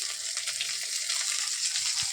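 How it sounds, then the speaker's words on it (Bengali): Garlic and green chillies fry in hot oil with black cumin, giving a close, loud, steady hiss and crackle that runs unbroken for about two seconds before cutting off abruptly, with no talking. "এখন রসুন আর কাঁচা লঙ্কা দিয়ে দিলাম, দিয়ে একটু ভালোভাবে নাড়াচাড়া করে ভাজা ভাজা করব।"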